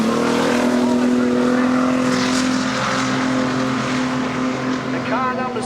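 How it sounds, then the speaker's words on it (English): Modified production race cars roar around Kingaroy Speedway, a loud sustained engine drone with rising and falling pitch as cars pass, under a public-address announcer talking over the action. "the car number 7, which is Janine Jones, comes through at 6th place."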